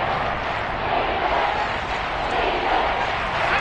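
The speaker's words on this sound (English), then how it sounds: "The crowd getting into it as we come up on a big 3rd down." Football stadium crowd roaring steadily ahead of a big third-down play, a dense wash of cheering and yelling that holds at an even loud level throughout, with no clear single voices standing out.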